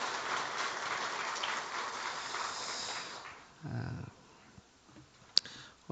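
A church congregation applauds to welcome returning members during a Sunday service. Dense, rain-like clapping lasts about three seconds and then stops abruptly, followed by quieter room sounds and a brief voice.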